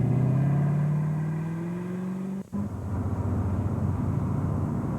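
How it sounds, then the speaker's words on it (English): A 1984 Corvette drives past with a smooth, rising engine note. The sound stays steady, breaks off briefly at the midpoint, then returns as a lower rumbling road roar. "In a 1984 Corvette, when you're talking about motion, it's bound to be rapid."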